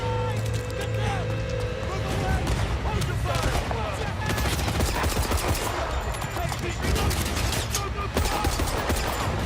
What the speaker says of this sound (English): What the hell is the dev shooting at?